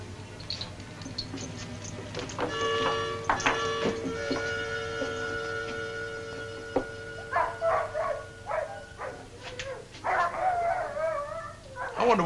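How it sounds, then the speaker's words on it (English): A team of sled dogs howls and barks at a dog race in the Yukon, with long overlapping howls and then sharp, yipping barks, loud and fairly close, and no talking. "I wonder what's bothering those dogs."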